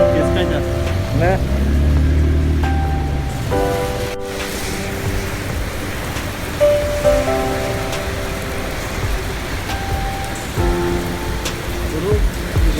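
Rain pours in Abu Dhabi as a steady, close hiss of drops on hard surfaces. Voices are heard over it at the start and again later.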